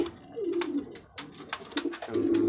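Pigeons cooing close by in short, repeated throaty calls, several coos in quick succession with brief pauses between them and no voices.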